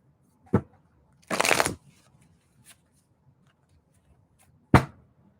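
A mini tarot card deck being shuffled by hand, heard as a short riffling burst in the middle with a couple of sharp card taps before and after, close and clear against a quiet room.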